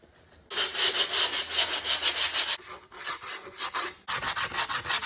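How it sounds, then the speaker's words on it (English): Folded grip tape is rubbed hard across the edge of a wooden skateboard deck, a loud rasping scrape in quick back-and-forth strokes with a brief pause between runs, close and without talk. "you are going to fold it. And you're going to use it to sand down your board."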